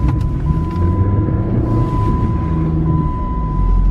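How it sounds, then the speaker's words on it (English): A car drifting and spinning in second gear gives a steady, loud low engine roar with a constant whine, rumbling through without pause. "while she goes around and does the drift"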